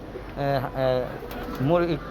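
Pigeons kept in a large backyard flock coo in three soft, close, repeated phrases, the throaty calls standing alone without any talk.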